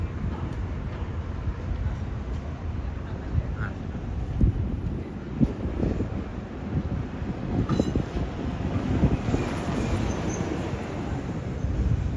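A Northstar commuter train rolls past near Target Field in Minneapolis, a continuous rumbling clatter of railcars at moderate distance, with gusty wind buffeting the microphone and occasional faint metallic squeals.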